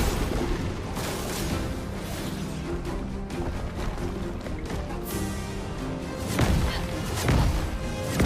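Rain of Fire attack in the video game Clair Obscur, a dense, continuous barrage of booming impacts and crackling blasts layered over game music, swelling louder near the end.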